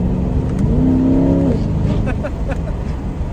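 A Chevrolet C8 Corvette engine revs loudly and climbs in pitch with fast shifts, then drops off as crowd chatter and background noise continue underneath.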